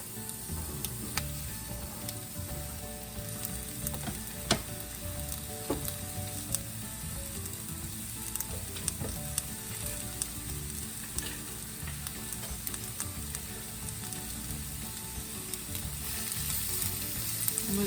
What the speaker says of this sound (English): Start by adding your onions to an iron skillet with a little oil in it.